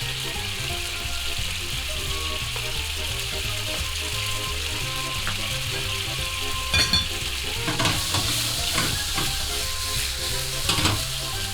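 Fresh black ink tagliolini sizzle loudly in a seafood sauce, a dense continuous frying hiss with stirring clatters and scrapes growing busier toward the end.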